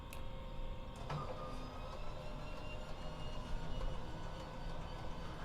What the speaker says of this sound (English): Down for the inertia starter.